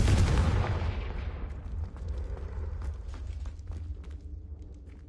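A Confringo fire spell in a Harry Potter video game lands as one heavy booming blast that rumbles and fades over several seconds.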